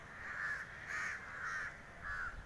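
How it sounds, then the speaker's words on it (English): Crows caw at sunset near Kailasagiri hill in Vizag, four drawn-out, fairly distant calls in steady succession with no talking. "See the crows coming."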